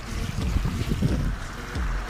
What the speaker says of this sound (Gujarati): હોડી આવે છે આપણી